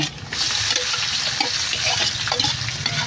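Vegetables for Filipino pancit hit a hot frying pan, giving a steady loud sizzle with scattered clinks and stirring scrapes, close up and without talk.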